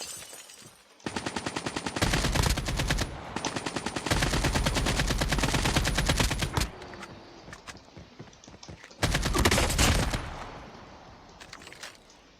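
Rapid automatic gunfire in Call of Duty: Mobile, with long bursts of closely spaced shots broken by short pauses, loud and close, with no talk over it.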